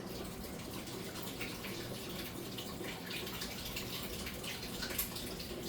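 Water drains out in a steady, continuous rush and gurgle that holds an even level throughout, with no voices.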